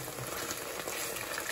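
A tamarind-ginger steak sizzling in a frying pan, a short, even, fairly quiet crackle with no other sounds.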